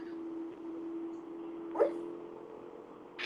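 A sleeping dog whimpers and gives a brief muffled bark while dreaming, faint and close, over a steady low electrical hum.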